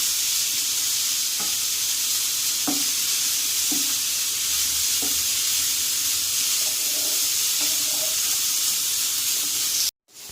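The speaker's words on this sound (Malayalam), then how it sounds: "ഇപ്പോൾ തേങ്ങ നല്ലവണ്ണം വറുത്ത് വന്നു കഴിഞ്ഞു." Grated coconut and whole coriander leaves roasting in a pan for a bitter gourd masala curry, a steady loud close sizzle with a few soft stirring taps and no talk, cutting off abruptly near the end.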